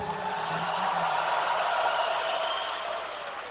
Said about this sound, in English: Everybody give Marlene a round of applause